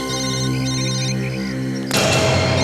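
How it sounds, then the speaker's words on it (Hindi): A mobile phone rings with a loud, sustained electronic tone that repeats, then gives way abruptly to a burst of broadband noise near the end. "सर फोन फिर से बज रहा है सर।"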